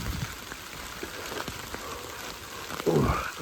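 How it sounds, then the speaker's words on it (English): Light rain patters steadily on a wooded walking trail at Shiloh, with scattered drops ticking nearby and a slightly louder splash near the end, no voices. "Ooh, rain. A big fat drop hit me."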